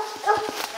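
A hunting hound near a treed bear gives a brief burst of short yips and whimpering barks, close by and fairly faint, over light background noise.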